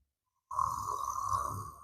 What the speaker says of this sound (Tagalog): Lakas na ng hilik eh.